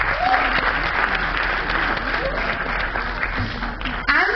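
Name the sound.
audience clapping for trustees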